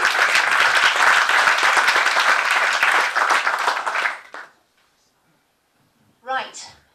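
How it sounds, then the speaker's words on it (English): Audience applause at a comedy showcase night, dense clapping from a crowd for about four seconds that tapers and stops, followed by silence and then a brief spoken voice. "Keep the applause going for your next comedy virgin."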